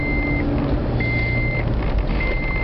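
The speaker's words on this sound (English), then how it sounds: "As soon as one beep stops, another one begins." Electronic beeping inside a taxi, three long steady tones of equal pitch separated by short gaps, heard over a low engine and road hum.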